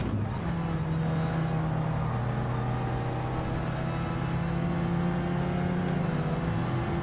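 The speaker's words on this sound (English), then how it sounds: "Bugatti's going by." A Bugatti sweeps past in Gran Turismo 7 during a Watkins Glen race, its steady engine drone holding loud and constant throughout with a slight rise in pitch toward the end.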